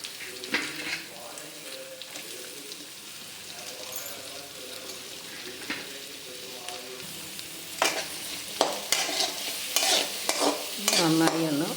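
Finely chopped onion sautés in a pan for a yam dish: a steady close sizzle with repeated spatula scrapes and stirring strokes that grow busier toward the end, with no talking.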